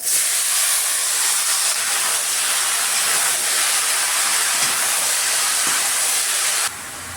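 Bottle gourd pieces dropped into hot oil with fried cumin and bay leaf in a wok, giving a loud, steady hiss that holds for several seconds and then drops off sharply near the end.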